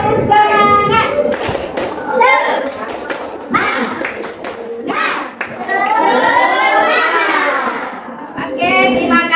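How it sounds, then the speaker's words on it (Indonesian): Schoolchildren in a classroom do tepuk semangat, a rhythmic spirit clap, striking sharp patterned claps together. Their voices chant loudly along with the claps throughout. "Yuk, tepuk semangat."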